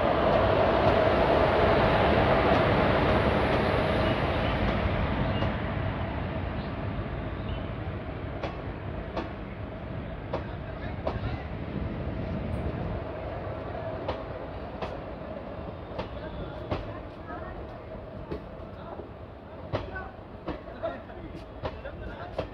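A train hauled by a WAP-4 locomotive runs on rails between Puranpur and Mailani Junction, a steady loud rumble heard from on board with faint rhythmic clicks over the rail joints that ease slightly over time.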